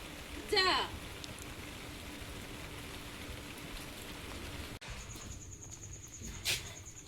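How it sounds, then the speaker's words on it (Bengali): Steady rain falls outdoors as a continuous soft hiss, joined near the start by a short chirp and later by a brief sharp sound, with no clear voices over it. "বৃষ্টি তো কন্টিনিউ হচ্ছে"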